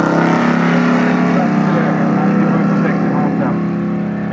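A 1964 Dodge Polara drag car with open exhaust cutouts roars in a loud, sustained engine drone, with a commentator talking over it.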